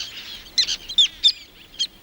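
Black-naped terns calling on a tidal shore at a nesting colony, a few sharp, high chirping calls in quick bursts, fairly close and clear over a faint background.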